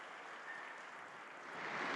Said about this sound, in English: I think we deserve a round of applause here.